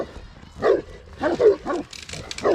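Dogs on a walk along a rural property line bark in several loud, close bursts, with a faint whimper between them.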